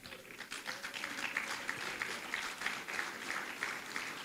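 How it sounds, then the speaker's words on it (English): Guests at a welfare association gala dinner clap for the judges and magistrates present, a moderate, continuous patter of hands in a large room with faint voices beneath. "Please clap for them"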